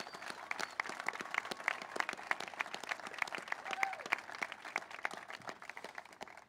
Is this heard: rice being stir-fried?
no